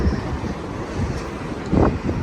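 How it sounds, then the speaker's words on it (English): Gusty wind buffeting the microphone on a hotel room balcony in Kyoto, a loud broadband rushing roar with a brief stronger gust near the end. "Oh, it's quite windy."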